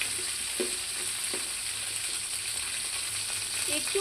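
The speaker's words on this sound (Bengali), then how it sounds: "এই কেটে রাখা পটলগুলো আর কাঁচা লঙ্কা ছেঁড়াগুলো দিয়ে দিলাম। এবার আমি নেড়ে দিব।" Chopped pointed gourd and torn green chillies stirred in a frying pan, soft intermittent scrapes of a spatula against the pan over a constant close sizzle and hiss, without speech.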